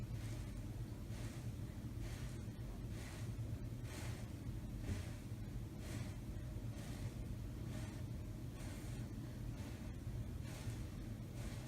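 A patient blowing out hard and steadily during EEG hyperventilation, a continuous breathy rush of air with rhythmic surges roughly every half second, close and constant throughout.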